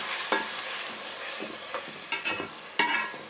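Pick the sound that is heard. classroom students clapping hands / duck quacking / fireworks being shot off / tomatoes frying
tomatoes frying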